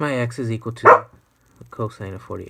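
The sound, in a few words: dog barking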